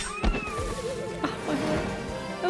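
A saber cub, a cat enemy in the video game Dragon Quest 11, meowing in short wavering cries over game sounds and background music.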